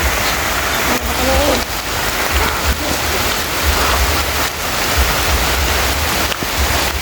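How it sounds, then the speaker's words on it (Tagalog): Heavy rain pours steadily and loudly, a dense continuous hiss with occasional heavier drips and knocks, close by and with no voices over it. "malakas yung ulan"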